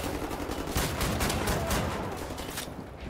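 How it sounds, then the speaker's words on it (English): In Wolfenstein: The New Order, a loud, continuous storm of automatic gunfire cracks throughout, with overlapping shots from close range before it briefly thins at the end. "there's something still shooting at us"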